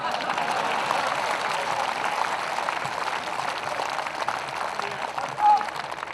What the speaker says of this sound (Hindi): कविता खत्म हो गई, अब आपको ताली बजाना है